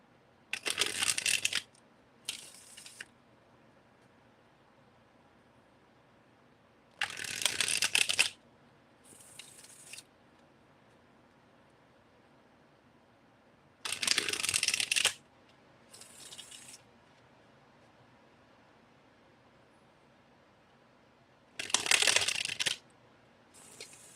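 Four separate bursts of tarot card shuffling, each a quick riffle of a second or so followed by a softer tap, with quiet pauses between them.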